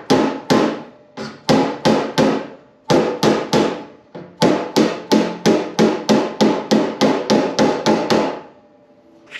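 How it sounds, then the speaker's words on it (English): Aluminum sheet metal being bent by hand without a press brake, struck by a hammer in quick sharp blows, close and loud, in bursts of several strikes with short pauses, no talking. "As it's bending, then you can actually start hitting inward a little bit, and that'll tighten things up tremendously for you."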